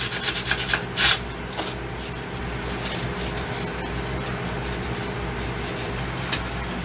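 Wood filler on window trim being sanded by hand, giving a steady continuous rubbing scrape that opens with a few short strokes and a louder swipe, then holds an even rasp throughout with no talk.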